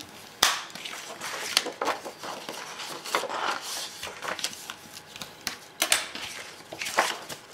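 Paper being creased into a fold for a baby album, with a series of sharp crisp clicks and rustling scrapes in irregular bursts, close and quiet with no talk.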